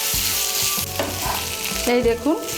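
Chicken fries with masala in a pan for chicken bharta, giving a loud, close sizzle broken by several clattering stirs of a spoon. A voice speaks briefly over the cooking.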